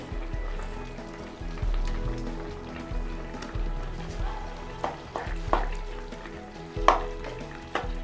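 Vada curry with mint and coriander cooking in a pot on the stove, giving a steady low sizzle and bubbling simmer with occasional sharper clinks and stirring sounds, fairly close and moderately quiet, with no talking.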